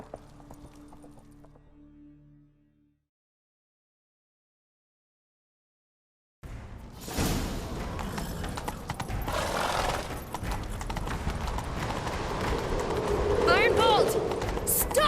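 Horse hooves galloping in The Witcher 3: Wild Hunt, a fast, loud, continuous clip-clop that starts abruptly after a brief quiet gap, with game sounds and a short stretch of voices before it.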